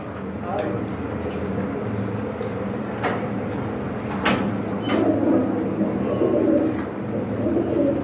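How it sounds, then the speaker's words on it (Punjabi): Pigeons coo in low repeated phrases amid people talking nearby, with a few sharp clicks and knocks in the background. "ਗਰਮੀਤ ਨੇ ਆਪਾਂ ਨੂੰ ਕਬੂਤਰ ਦਿੱਤਾ ਹੀ ਪਹਿਲੀ ਵਾਰੀ ਜੋੜਾ"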